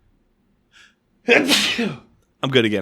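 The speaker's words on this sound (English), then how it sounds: "I'm about to sneeze." One sharp sneeze from a person bursts out after a brief intake of breath. A short spoken remark follows soon after in a quiet room.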